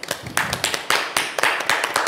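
Audience applause, a short burst of sharp, close handclaps in a quick uneven rhythm, fairly loud and alone.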